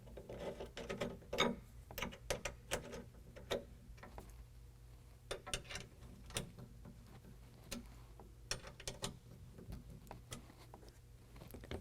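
A provided Torx wrench tightens a hanger bracket down to the deck rail system of a 2022 Toyota Tundra while an UnderCover Triad cover is fitted, giving faint, sparse ratcheting clicks and small metallic ticks, close by, with no speech.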